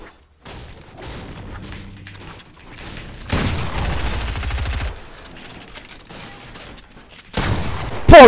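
Gunfire in the Fortnite video game: rapid bursts of shots cut in and out over several seconds, with a loud dense stretch in the middle and a final sharp blast at the end, close and punchy over game ambience.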